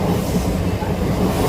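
Steady rumble of a moving train carriage on a Mumbai-area ride, continuous wheel and rail noise filling the space up close with a faint rhythmic clatter and no talking.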